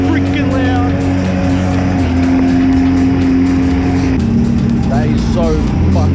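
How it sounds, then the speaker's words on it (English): A Ferrari engine roars loudly and steadily at a motorsport event, with the tone shifting partway through, heard close alongside other engine noise and people talking over it. "A Ferrari is so freaking loud."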